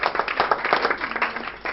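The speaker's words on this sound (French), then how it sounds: "Je vous demande d'applaudir bien fort la pâtisserie maison." An audience at an anniversary show applauds a homemade pastry, a dense, continuous patter of clapping from a crowd, fairly loud and close, with a faint voice underneath.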